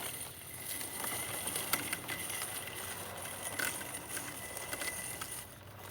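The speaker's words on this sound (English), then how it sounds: "And you can hear it cutting." Steady whirring of a Segway Navimow robot lawn mower cutting tall grass, a continuous hissy buzz with scattered ticks and rustles, fairly close, no talking.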